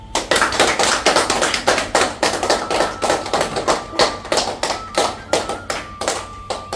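Steady applause honouring CRPF jawan Vikram Singh at an Akhil Bharatiya Hindu Shakti Dal felicitation, with many hands clapping in fast overlapping bursts, loud and close, continuing throughout without speech.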